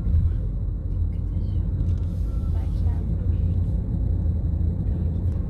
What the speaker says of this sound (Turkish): Araba vapuru yazıyor Hafize Nur.